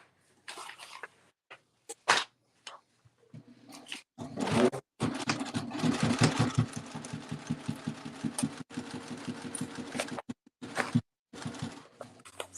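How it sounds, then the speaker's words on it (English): A sewing machine stitches fabric pieces for a crossbody bag in short bursts, then runs in a longer steady whir with a rapid rhythmic clatter. Brief pauses fall between runs. "I'm going to sew my two lining pieces together."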